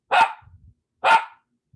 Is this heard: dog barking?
yes